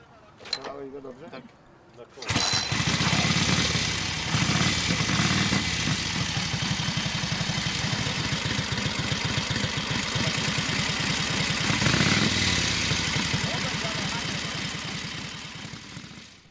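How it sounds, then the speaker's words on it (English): A Polish-made Sokol motorcycle engine, ridden in the Cannonball endurance run, starts up after a short quiet moment and settles into a steady, loud, throbbing idle with a rapid even firing pulse, running continuously close by. "But definitely it's a Polish-made motorcycle in Cannonball"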